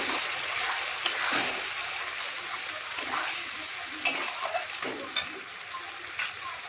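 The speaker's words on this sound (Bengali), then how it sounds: "মশলা বাটিটার মধ্যে দিয়ে জলটা দিয়ে ছোটো মশলাটা না পড়ে যায়" Water being poured through a spice bowl into a hot cooking pan for a chicken curry, making a loud, continuous hissing sizzle with a few splashes and clinks along the way.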